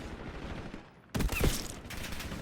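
Pistol gunfire rings out in a competitive team video game match, a sharp burst of shots arriving suddenly after a quieter stretch of low background rumble, loud and close.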